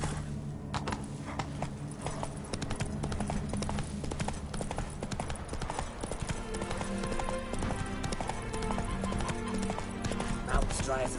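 Horse hooves clip-clop steadily under continuous loud background noise after a rider's command, with a horse whinny and people talking in the clip.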